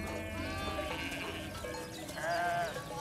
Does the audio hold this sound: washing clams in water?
no